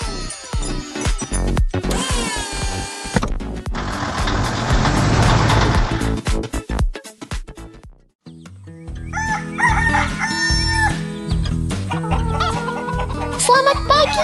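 Animated farm chickens cluck and a rooster crows loudly, with bright cartoon music and sound effects mixed in and a brief silent gap midway.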